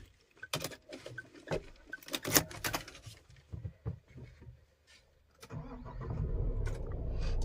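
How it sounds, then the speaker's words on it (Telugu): A Mahindra Thar RWD starts up after a series of close clicks and cabin handling noises, followed by the engine cranking and settling into a low, steady idle rumble. "సో మనం ఒక వెహికల్ అయితే స్టార్ట్ చేద్దాం."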